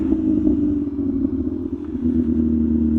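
An MV Agusta motorcycle engine drones steadily on a night ride, a loud, continuous low rumble with slight throttle variations throughout and no talking.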